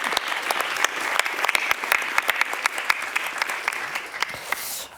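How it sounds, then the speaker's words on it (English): An audience claps for the panelists at the close of a farming innovation discussion, a dense run of many individual claps that stays busy throughout and thins slightly near the end. "A round of applause for our panelists, please"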